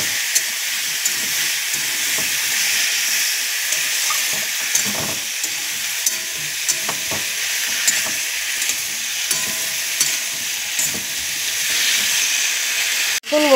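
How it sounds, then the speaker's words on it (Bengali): Vegetables with puti fish, ridge gourd and potato fry in a pan with a loud, steady hissing sizzle, occasional stirring scrapes throughout and a sharp clatter at the very end. "সবজিগুলো দিয়ে দিচ্ছি, তারপরে আমি একটু নাড়াচাড়া করব।"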